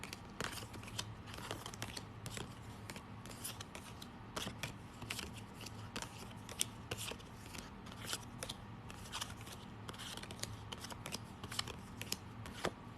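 Tarot cards are shuffled and rearranged by hand in a continuous stream of close papery rustles, slides and taps, quiet and busy with no pauses, over faint background hum.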